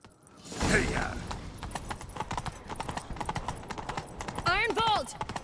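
Horse hooves clip-clop at a gallop in The Witcher 3, a rapid continuous thudding rhythm close by, with a shout at the start and a horse neighing near the end while characters speak.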